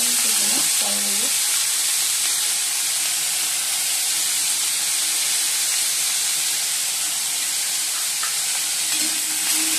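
Potatoes frying in hot oil with turmeric give a steady, even sizzling hiss throughout, close and continuous, with a few faint voice-like sounds near the start.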